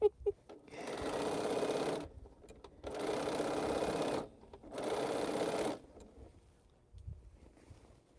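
A sewing machine stitches cotton quilt seams in three separate bursts of steady whirring, each a second or two long, with quiet pauses and faint handling sounds between them.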